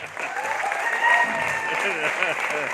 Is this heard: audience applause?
yes